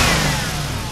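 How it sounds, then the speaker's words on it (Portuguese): Car engine revving at a São João festival, a loud, sustained, rising mechanical roar filling the whole second with no speech over it. "Dominó, vai ligar o motor desse carro, Dominó."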